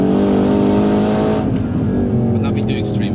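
A Mercedes C63 AMG Black Series engine drones loud and close from on board on the Nürburgring, a steady, strongly pitched tone that shifts slightly as the car accelerates.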